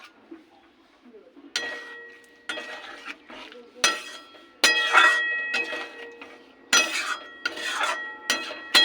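Ghee-laced mung dal and cauliflower curry being stirred in a pot, a spoon scraping and clinking against the metal in irregular strokes, close and fairly loud.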